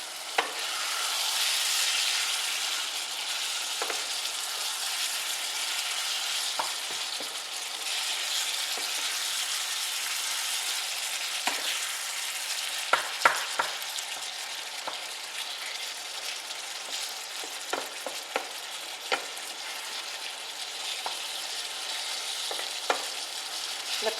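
Sloppy joe meat frying in a pan and being stirred, a steady sizzle with scattered scraping clicks from the utensil, close and alone with no talking.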